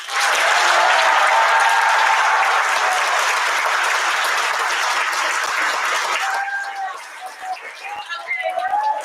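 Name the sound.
audience applause for band directors at spring concert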